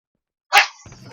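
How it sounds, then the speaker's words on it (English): A pet dog named Lightning lets out a single sharp bark after silence, followed by fainter rustling and a brief low trailing sound, close by in a home. "And now you guys get to hear my dogs because Lightning wants to be a turd"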